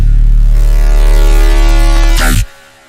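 Wavetable synth bass with a slowed LFO, sustained and harmonically dense with a steady low drone and slow pulsing movement, loud and alone, cutting off with a brief burst near the end; drum and bass/dubstep production.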